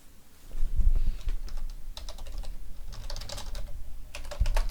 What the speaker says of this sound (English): Just typing something out to somebody.